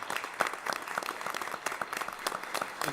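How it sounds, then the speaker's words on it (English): Students stand at a Board of Education meeting while the room gives them a quiet round of applause, scattered claps rising and falling at a moderate distance. "Just give these guys a round of applause"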